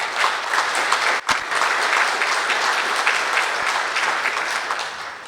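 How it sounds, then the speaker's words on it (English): A large aviation event audience applauds Jack Pelton and the EAA, loud continuous clapping from a big crowd with one brief dip near the start before the wave carries on evenly. "why don't we have a round of applause for Jack and the EAA"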